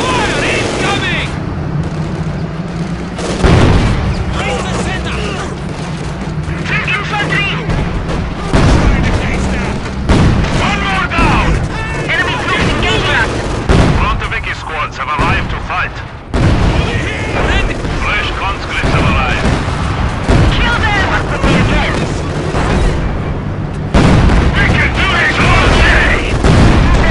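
Incoming artillery fire in the video game Company of Heroes 2 on the Eastern Front with a T-34 tank, heavy booms and bursts landing repeatedly through a dense battle din, with shouted voice lines over the explosions.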